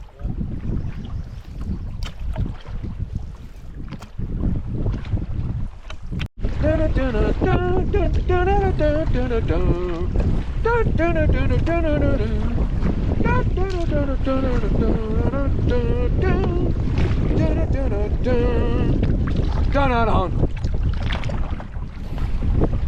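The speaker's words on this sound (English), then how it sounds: "we got a couple hours of paddling, so let's go nice and easy, Dennis." A canoe being paddled on a lake in wind, with steady strong wind noise and water wash throughout, a brief dropout, then music-like tones over the continuous rush.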